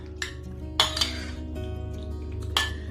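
Salad mixed with a little tomato sauce in a bowl, with scattered clinks and scrapes of utensils against the bowl, a few sharper knocks over a low steady hum.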